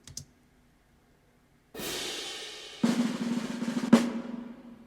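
A sampled snare drum from a home-studio prog rock production hits three times, each a crisp crack with a ringing tail. The first hit comes after a long silence and the last two follow closer together.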